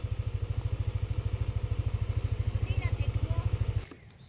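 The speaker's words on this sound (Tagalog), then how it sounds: "Ay, hindi makapasok yung motor." Motorcycle engine idling close by with a fast, even chugging pulse that runs steadily, then cuts off near the end, leaving quiet background.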